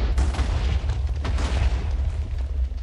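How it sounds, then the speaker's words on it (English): A Thaumcraft causality collapser detonating in Minecraft: a deep booming game explosion with a heavy low rumble and crackling bursts that roll on and decay over a few seconds, loud and close with no talk. "It is going to explode."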